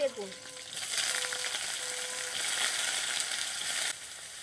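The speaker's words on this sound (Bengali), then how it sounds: "আমার এখানে তেল গরম হয়ে গেছে, আমি দিয়ে দিচ্ছি কালো জিরা ফোড়নে, দিয়ে দিচ্ছি চেরা কাঁচা লঙ্কা।" Nigella seeds and slit green chillies crackle and sizzle as they hit hot oil in a pan, a steady close hiss with a few bright spits, cut off sharply near the end.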